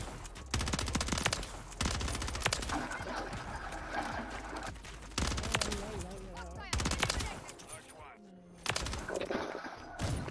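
A Call of Duty match with a sniper rifle shot amid heavy bursts of loud gunfire, the shots arriving in dense clusters separated by short lulls, with voices faintly mixed in.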